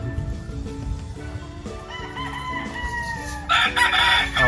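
White kelso and sweater gamefowl roosters crow loudly and nearby at a farm in San Pablo, Laguna, with overlapping crows and some clucking layered together.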